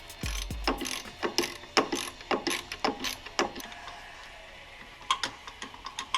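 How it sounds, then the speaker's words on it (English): A hand ratchet loosens a bolt on the power steering pump of a 2004 Subaru WRX STI. Its pawl clicks sharply and rhythmically in close, quick bursts, with a short pause before a final run of clicks. "Loosen the 12mm bolt on top, and it'll give enough slack to take the belt off."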